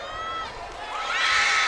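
A standing crowd in a basketball gym during a Libon vs. Daraga game of the Ako Bicol Cup shouts and cheers, with a rising swell of many voices and shrill calls.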